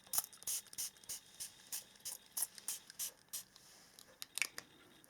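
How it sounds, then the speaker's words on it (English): A spray bottle is shaken and then spritzed in a run of short, hissing bursts with a loose rhythm. The sound is fairly quiet and close, with no voices. "So I will shake this up and I will spray it all over your reading here"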